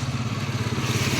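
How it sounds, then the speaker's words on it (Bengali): A motorbike engine drones steadily on a village road, a low rumbling putter that holds at a moderate distance with no voices over it. "বাইক আসছে"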